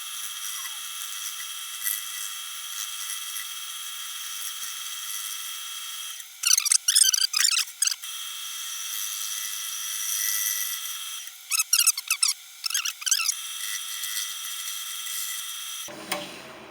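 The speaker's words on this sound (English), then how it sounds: "So I'm going to use one of my older chisels and see how that does." Wood being turned on a lathe with an old chisel, producing a steady high-pitched whine broken by two bursts of rough, chattering cuts, with the motor winding down at the end.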